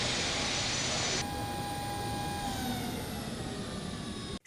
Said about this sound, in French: l'avion du chef d'État de la Guinée-Bissau a atterri sur la piste de l'aéroport international de Conakry